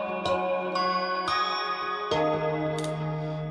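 A Kurzweil K2000 synthesizer plays its Bell of Dreams preset, sounding a short melody of five struck bell-like chime notes with shimmering attacks and ringing sustain, clear and close with no talk.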